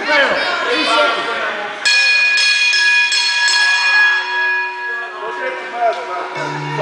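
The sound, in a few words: wrestling ring bell being rung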